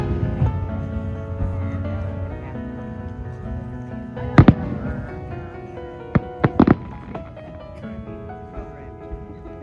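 Fireworks at a celebration of America's 250th anniversary burst in the distance, a few sharp booms and crackling pops, some in quick clusters, over a steady wash of background music and crowd noise.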